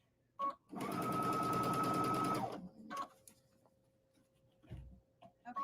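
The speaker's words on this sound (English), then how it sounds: "we're going to go ahead and put a top stitch over the 1/4 inch seam allowance" A sewing machine top stitching over a quarter-inch seam allowance, running in one steady burst of rapid needle chatter for about two seconds, close and clear, with a few short clicks and handling noises before and after.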